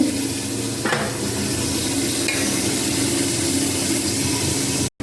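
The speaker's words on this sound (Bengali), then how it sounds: "এটা একটু হালকা ভাজা হোক" Brinjal and chilies sizzle gently in a frying pan, a constant close crackle with a stirring scrape near the start, ending in a brief cut of silence just before the close.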